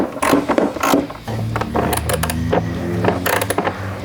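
Tools click and ratchet in short bursts while bolts come out of a Harley-Davidson Softail Sport Glide saddlebag, close-up metallic clatter and rattling between brief pauses.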